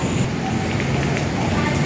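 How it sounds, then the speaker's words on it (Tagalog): Heavy rain pours steadily as a dense, continuous hiss under a bridge shelter at the Esplanade, loud and unbroken throughout with no clear voices. "ang lakas ng ulan"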